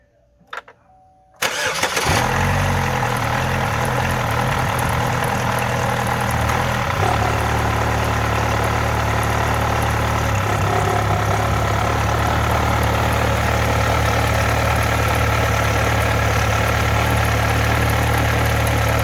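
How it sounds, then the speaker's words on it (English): A 2011 Chevy Malibu 2.4 engine with a cam phaser fault cranks briefly, catches and settles into a steady, loud idle that runs continuously with no talk. "We're gonna give her a start, see if she'll start up and run"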